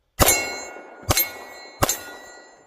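Three sharp metallic clangs of bullets hitting a steel target ring out one after another, each hit leaving a bright ringing decay, loud and distinct with short pauses between.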